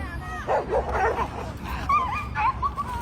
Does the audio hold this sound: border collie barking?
yes